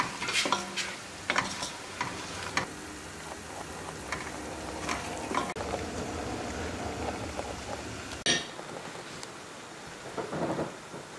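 Onion and carrot sizzle while frying in a pan, with a steady crackle broken by stirring scrapes and clatters, close and fairly loud throughout with no talking.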